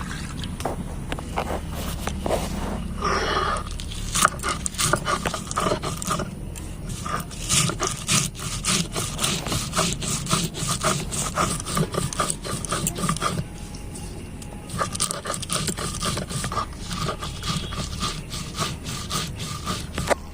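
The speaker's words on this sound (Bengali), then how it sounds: "সরষে, পোস্ত আর এই কাঁচা লঙ্কা এগুলো বেটে নেবো" Mustard seeds, poppy seeds and green chillies are ground into paste on a grinding stone, a close, repeated scraping rub in quick back-and-forth strokes with a short pause partway through.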